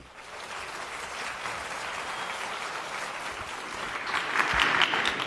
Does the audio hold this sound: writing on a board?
no